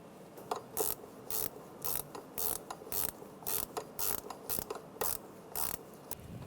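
Ratchet clicking in short repeated bursts while a bolt is snugged down on the intake of a 1996-2002 Toyota 4Runner during an intake gasket replacement, close and crisp, about a dozen quick bursts with brief pauses between.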